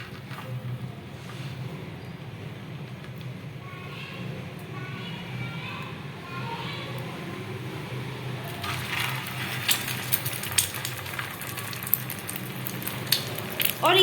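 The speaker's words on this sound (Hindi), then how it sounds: "आलू की जो टिक्कियां हैं वो फ्राई हो रही हैं" Aloo tikki potato patties frying in hot oil, a soft steady sizzle that grows into crackling pops toward the end, with a person speaking over it.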